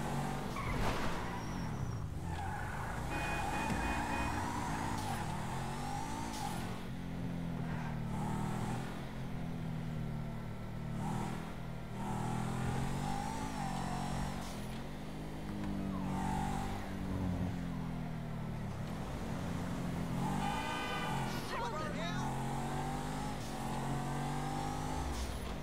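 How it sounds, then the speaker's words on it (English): A car engine in Grand Theft Auto V revs repeatedly, climbing and dropping in pitch in rising sweeps, with a tire-like screech near the end and no voices. "Ready to go, so this thing is revved up."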